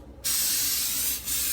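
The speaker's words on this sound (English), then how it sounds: "I use coconut cooking spray from Trader Joe's" Coconut cooking spray hisses from an aerosol can onto a baking pan in a kitchen, one steady burst of about a second with a brief dip before it resumes, close and fairly loud.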